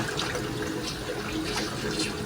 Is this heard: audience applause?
no